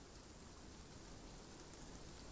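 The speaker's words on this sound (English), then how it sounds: "It's raining." Rain falls in a cemetery scene in the video game Tears of Themis as a quiet, even, unbroken hiss with no other sounds on top.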